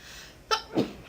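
One quick sneeze from a creature in the puzzle adventure game Zork Nemesis, a sharp burst followed by a softer exhaled tail, close and clear against a quiet background.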